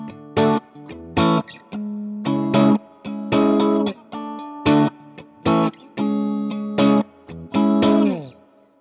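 Electric guitar played through a distortion and effects pedal on a pedalboard: loud, evenly spaced chord stabs with gaps between them, ending on a sliding, bending final chord.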